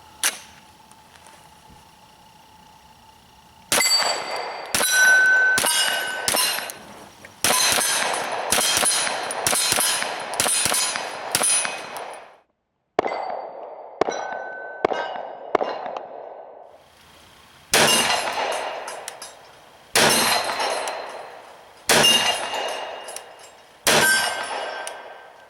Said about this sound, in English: So from 25 yards away, I'm having no problem hitting the steel out there.